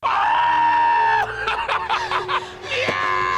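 People scream in a film scene on a beach at night, where a sea creature attacks a barrel. A sustained loud scream is followed by broken, whimpering and laughing cries, with no other sound beneath them.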